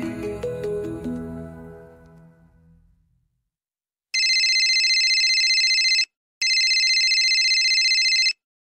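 A telephone rings twice in two long electronic bursts, loud and steady with a short gap between them, after a stretch of fading music.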